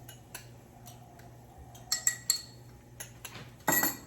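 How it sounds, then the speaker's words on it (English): Flour and fat being stirred into a roux in a pan, a few sharp clinks and scrapes of a utensil against the pan, close and brief over a quiet background. "Let's give our flour a little stir."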